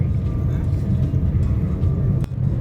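Car driving on the Rajiv Gandhi expressway in heavy traffic, a steady loud low road rumble and engine drone throughout, with a brief knock near the end.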